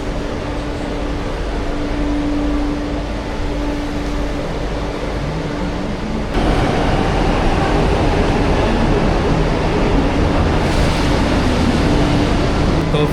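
Delhi metro train at Qutub Minar station, a loud continuous rumble and hiss of rolling stock with a steady tonal hum, growing louder and denser halfway through.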